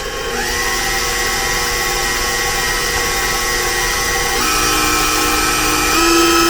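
An electric hand mixer whirs steadily through red velvet cupcake batter, a continuous loud motor drone with a slight shift in pitch partway through, no voices over it.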